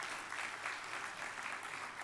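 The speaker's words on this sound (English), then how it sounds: "Can we have a big round of applause for Institute of Chartered Accountants of India?" Conference audience clapping for the Institute of Chartered Accountants of India, a dense, even wash of many hands heard at moderate distance, sustained for about two seconds without a break.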